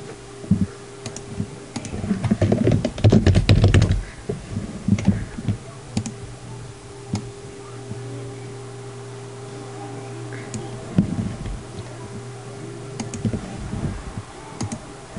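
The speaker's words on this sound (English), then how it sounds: "So now to get our text, we're just going to type in some text." Someone types on a computer keyboard, with a dense burst of close key clicks early on and then sparser, lighter taps over a low mains hum.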